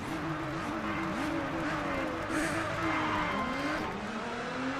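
A Nissan Skyline R34 race car in a racing video game roars steadily at high revs, its engine tone climbing and dropping through gear changes, loud and continuous with faint tire noise and no talking.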